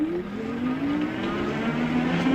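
A moped-style electric bike speeds up on throttle alone in its fifth assist mode, unlocked, its motor letting out a steady rising whine over heavy wind rush, loud and continuous throughout.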